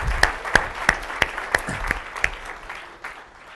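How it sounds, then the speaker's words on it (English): A seminar audience gives a round of applause, heard as a sparse, fairly distant patter with a few sharper claps recurring at a regular pace, fading out toward the end. "Give him a round of applause"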